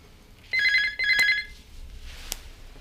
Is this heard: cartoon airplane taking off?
no